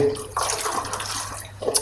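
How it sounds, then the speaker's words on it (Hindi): Water is poured into a glass of tamarind and plum sharbat, a close, bubbling splash that runs in uneven gurgles and swells again near the end. "अब इसमें पानी ऐड करेंगे।"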